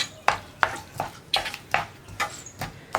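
A spoon stirring yogurt into a mango curry in a pan scrapes and clinks against the metal in sharp, evenly spaced strokes, about one every half second, close and fairly clear with no talking.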